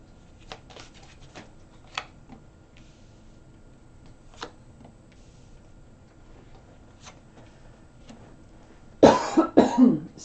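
A person coughs several times in a quick, loud burst near the end, after a stretch of quiet room tone with faint ticks.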